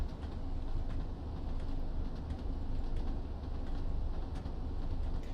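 Class 101 diesel multiple unit in Train Sim World 2 rolling through a small English station, a steady low rumble of engine and wheels on track that holds level throughout, with no voices.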